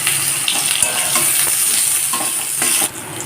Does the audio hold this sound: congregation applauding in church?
no